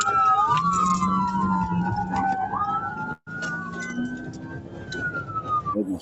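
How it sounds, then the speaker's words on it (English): An emergency siren wails with rising and falling tones, loud and close, briefly cutting out midway before resuming alongside engine rumble. "Do I need to turn my sirens on?"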